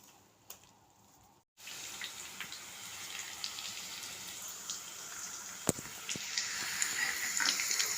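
Water pours off soaked puffed rice, a steady, moderately close splashing stream that starts abruptly after a brief quiet pause and continues with a few small clinks.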